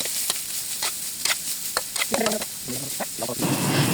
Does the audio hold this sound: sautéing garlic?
yes